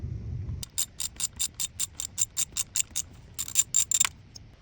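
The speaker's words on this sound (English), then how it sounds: "I have a 1/4 socket wrench right here. So I'm gonna take that bleeder screw out" A 1/4 socket wrench ratchets out a coolant bleeder screw on a V8 HEMI engine, giving a crisp run of about fifteen evenly spaced, close ratcheting clicks heard alone.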